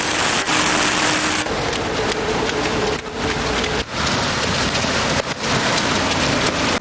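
Heavy rain pours down steadily during a military march through the boulevards of Kinshasa, a loud, continuous hiss with no voices.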